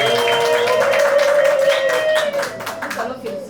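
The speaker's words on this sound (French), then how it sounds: "Alors, nous devons applaudir." Guests clap together at a civil wedding held at the Congo embassy in Kampala, a steady burst of applause for about three seconds that thins and fades toward the end, with some voices mixed in.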